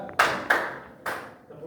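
Three sharp hand claps from students in a classroom counting and clapping game, loud and close, unevenly spaced, with a voice briefly heard around them.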